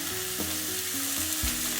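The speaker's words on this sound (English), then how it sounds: "So let's drop one inside, and it is sizzling." Onions sizzle and crackle loudly in hot oil, a steady frying hiss with a few sharper spits, close up.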